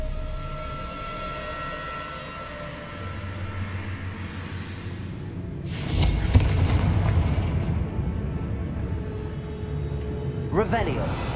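Fiery blast spells bursting in the Hogwarts Legacy video game, a loud booming explosion midway with rumbling aftermath over game background sound and a voice shouting in the mix.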